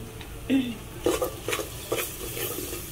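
Spices with turmeric, chili and coriander powder and salt are stirred in a pan, giving a soft sizzle under a few distinct scraping strokes of a spoon against metal, spaced irregularly and fairly quiet.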